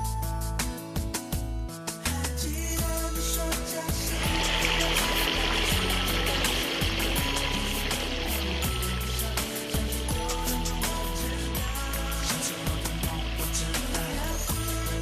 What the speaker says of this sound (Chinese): 这个流水效果还是可以的吧？